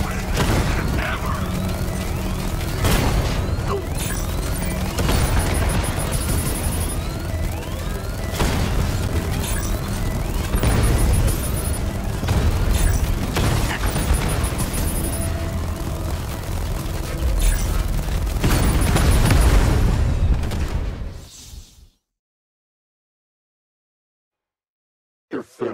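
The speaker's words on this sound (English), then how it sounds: "The explosion disabled the main cannon." Repeated heavy booms and blasts rumble through a Batman Arkham Knight battle, loud and sustained with periodic bursts before cutting to silence near the end.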